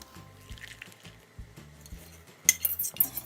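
A whisk scrapes and clinks steadily against a saucepan as cream is beaten over medium heat, making rhythmic metallic strokes roughly every half second, close and clear, with a brighter, busier burst of clatter near the end.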